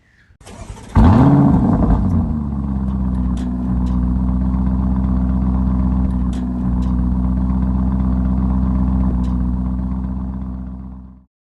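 Lamborghini Urus Performante twin-turbo V8 starting with a sharp bark, then settling into a steady, loud, rumbling idle close by, with faint clicks over the drone before it cuts off.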